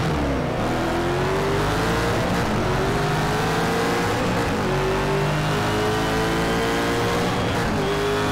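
A Corvette race car's engine roars steadily in Need for Speed: Shift 2 Unleashed, loud and close, its pitch climbing slowly through each gear with other cars' engines layered underneath.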